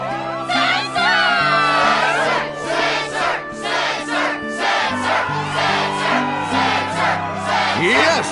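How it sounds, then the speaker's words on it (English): A video-game crowd in Kingdom Hearts 2 cheers and shouts loudly and continuously at a Struggle tournament, whooping and yelling over sustained background music, with no clear speech. "Yes, the crowd is fired up,"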